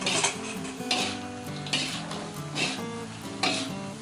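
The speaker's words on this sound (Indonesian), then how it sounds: "Nah, kita masukin ini sausnya. Aduk" Crispy tofu being stirred through a creamy salted egg sauce in a pan, with repeated scraping and clinking of a utensil against the pan over a light sizzle, steady and close.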